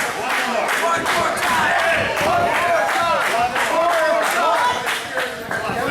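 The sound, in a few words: wrestling crowd cheering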